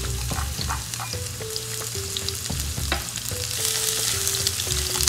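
Garlic sizzles and fries in a pan for a stir fry, a steady close crackle with clinking utensil taps and stirring scrapes throughout.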